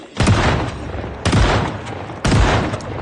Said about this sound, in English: Time to test if shotguns are really as good as I think they are